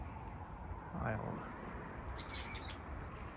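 A small bird chirps in a park in Tatebayashi among cherry blossoms, a few short high tweets late in the clip, faint and somewhat distant over outdoor ambience and a brief voice.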